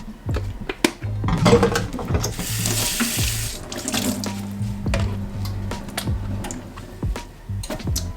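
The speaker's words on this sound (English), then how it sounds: "I have to clean the sink, so get rid of the dirt, the dirty water of the first rinse" Dirty rinse water running and draining from a sink after washing combs and brushes, a steady rushing flow with a low gurgle and scattered clicks and knocks close by.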